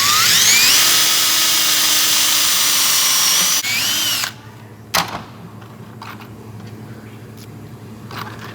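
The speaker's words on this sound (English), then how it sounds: "now we're just gonna put this screw in and snug it up" A power drill drives a drywall screw into a table top chain conveyor, a loud high whirring spin that dips briefly, stops, and gives way to a sharp knock and quieter handling clatter.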